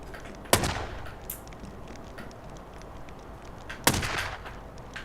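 Gunfire in The Godfather video game: two loud, close single shots about three seconds apart, each with a short decay, over steady game background noise.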